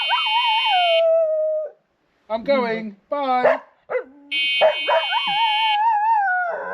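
A dog howls loudly and close by in long, wavering cries, broken by short whimpers and yips, while a person briefly speaks between the howls; the howling is set off by an Engwe M20 e-bike.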